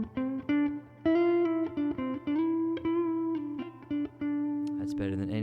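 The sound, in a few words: Boss GM-800 guitar synth tone through Princeton Reverb amp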